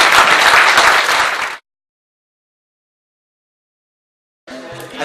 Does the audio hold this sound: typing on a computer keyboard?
no